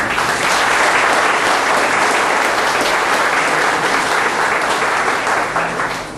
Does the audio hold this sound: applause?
yes